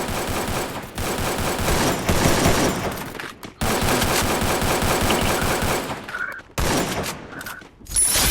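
Sustained rapid gunfire from the mobile battle-royale video game Free Fire, loud and nearly continuous bursts with two brief pauses, carrying through most of the clip.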